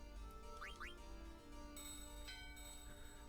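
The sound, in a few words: bell ringing in Final Fantasy IX video game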